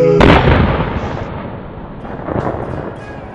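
A bomb explosion bursts out loudly with a sudden blast, then a long, heavy rumbling roar that rolls on and slowly fades, with no talk over it.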